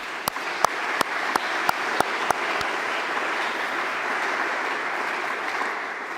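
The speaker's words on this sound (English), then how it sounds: "Please give them a round of applause." Audience applause at a press institute opening ceremony, a dense steady wash of clapping from a large crowd with a few sharp close claps early on, sustained to the end.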